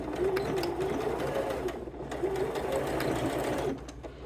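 A sewing machine basting fold over elastic with contrasting thread, its fast rhythmic stitching running nearly continuously up close, with brief slowdowns and a light drop near the end.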